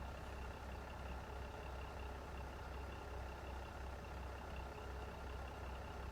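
A train engine idles in the video game Train Sim World 2, on a West Cornwall local service, giving off a steady, low, even hum that stays constant throughout.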